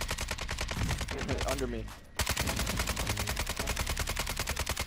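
Rapid automatic gunfire in Call of Duty Warzone: a loud, close, steady stream of evenly spaced shots that breaks off for a moment and then resumes just as fast, with a short spoken line during the pause.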